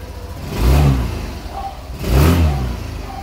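A Suzuki Burgman Street 125 scooter, freshly serviced, is revved twice in close succession, each throttle blip swelling and falling back to a steady idle, loud and near with no talk.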